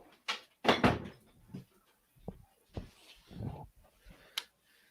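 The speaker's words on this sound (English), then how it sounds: "You're gonna shut the door." A bathroom door swung and shut indoors, giving a few separate knocks and thuds over five seconds, with a louder bang near the start and smaller clunks after it.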